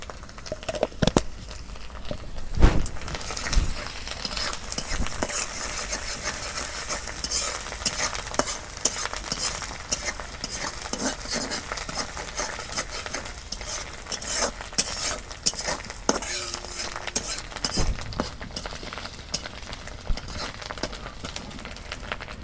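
Cumin goes into beef curry frying in a pan, with a steady soft sizzle under repeated scraping and stirring from a spoon, plus occasional clinks against the pot.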